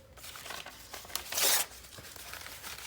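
Paper pages torn by hand for a mixed media collage background, a series of short rips and crinkles building to one loud, long tear midway, close and alone.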